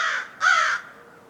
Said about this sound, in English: The birds are upset.